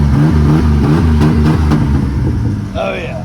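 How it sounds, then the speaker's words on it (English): A customer's truck engine revs loudly up close, pulsing through several throttle blips before easing down, with someone talking over it. "Give it a rev."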